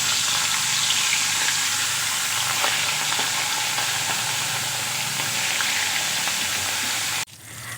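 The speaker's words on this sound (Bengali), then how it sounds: "তেল খুব ভালো করে গরম করে নিয়েছি। এখন আমি মাছগুলো দিয়ে দেব।" Hilsa fish pieces frying in very hot oil, giving a loud, steady, crackling sizzle that runs without a break and drops off abruptly near the end.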